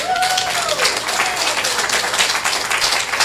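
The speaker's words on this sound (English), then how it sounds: "Let's give him a big round of applause." An audience at a city council meeting breaks into steady applause, many hands clapping together for a few seconds, with a brief voice near the start.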